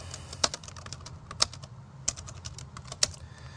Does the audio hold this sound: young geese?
no